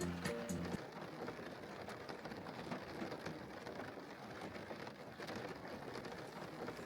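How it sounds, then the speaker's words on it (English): Steady rain falling at night in Queenstown, New Zealand, a continuous soft hiss of drops on surfaces, even and unbroken throughout with no voices. "I sit here listening to the ongoing rain that has been going steady for a couple hours now."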